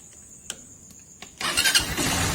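A TMX Supremo 150 motorcycle with a sensitive carburetor and hard starting: a few faint clicks and a whine, then the engine catches and settles into a rough, close idle.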